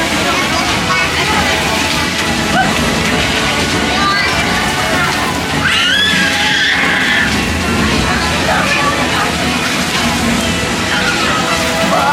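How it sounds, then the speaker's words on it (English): Water splashes and sloshes continuously at a kids' splash pad at Epcot, Walt Disney World, a loud dense wash of spray with crowd voices mixed underneath throughout. "And then they have like a little splash pad for like the kids."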